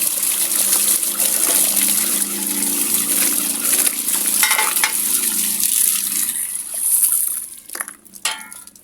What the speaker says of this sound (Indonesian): Oke, kita kocor lagi pakai air putih